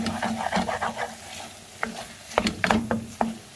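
An egg mixture for khagina fries in ghee in a pan while being stirred. A soft sizzle runs under irregular scraping stirs and a few sharper knocks of the spoon against the pan, with no talking.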